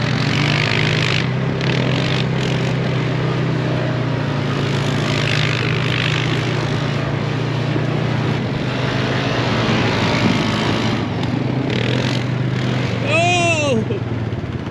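A quad ATV drives through California desert dust, its engine a loud, steady drone close to the microphone for the whole stretch, with voices heard faintly over it.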